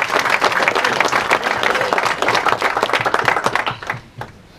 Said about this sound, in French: Je crois qu'on peut applaudir Dominique Descamps.